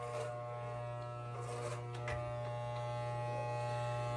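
Electric hair clippers buzz in a steady, close, continuous drone during a child's haircut at home, with faint shifts as the blades move through hair.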